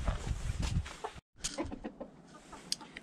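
Hens cluck softly inside a coop, a few short clucks and rustles at close range with a brief pause midway.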